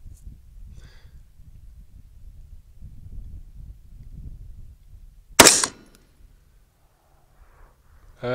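A single sharp .223 rifle shot cracks out at a long-range shooting session aimed at 990 yards, a sudden loud report with a brief tail, set against faint wind rumble and near silence.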